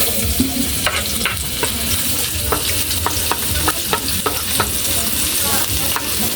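Onion fries in hot oil for chicken feet adobo, a loud, dense sizzle up close, with the sharp scrapes of a stirring spatula sounding every half second or so and no one speaking.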